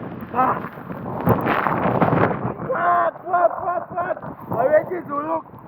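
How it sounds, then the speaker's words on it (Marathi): Gusty wind roars and buffets the microphone with a rough, broadband rush near a monsoon waterfall in Konkan, loudest early on, while voices talk over it. "खतरनाक वारा आहे"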